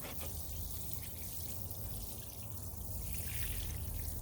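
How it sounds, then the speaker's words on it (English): Fish fertilizer and water pour into a 2-gallon watering can, a steady close trickle that runs unbroken and alone for a few seconds. "A couple tablespoons go in a watering can."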